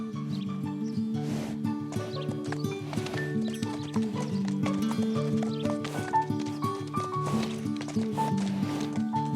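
Pyrenean donkeys walking on a hiking farm, hooves clip-clopping in an irregular steady rhythm at moderate distance, with a layer of music running underneath throughout.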